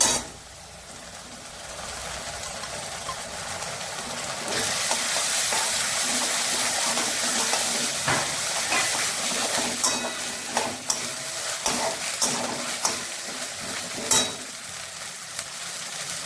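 Ginger paste frying in a pan with chopped onion for palak paneer gives a loud, steady sizzling hiss that runs on without pause, with scattered clinks and scrapes of stirring on top.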